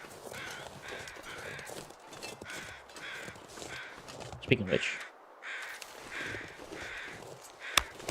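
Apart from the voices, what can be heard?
crows cawing in the video game The Long Dark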